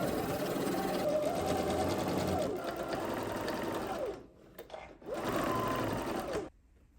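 A sewing machine stitches fabric for an elastic-waist milkmaid-style dress in steady rapid bursts, close and prominent, stopping briefly twice before running on and cutting off at the end.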